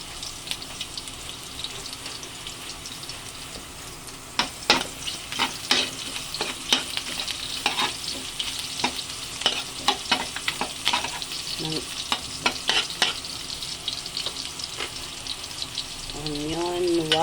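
Garlic and white onion sizzle in a hot pan for a Filipino dinuguan, with frequent clattering stirs and scrapes of a utensil over steady frying; a voice speaks briefly near the end.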